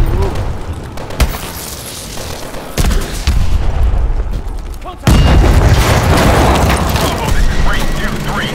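Explosions in Call of Duty: Advanced Warfare during a Seattle street fight, a series of heavy booms amid gunfire, the loudest blast hitting midway and leaving a dense roaring rumble; voices talk over the battle.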